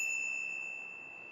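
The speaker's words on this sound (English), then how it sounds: "This scooter genuinely has the best bell I've ever experienced in my life." The bell on an 8TEV B12 electric scooter rings once, a bright metallic ding whose clear tones hang and slowly fade, close and alone.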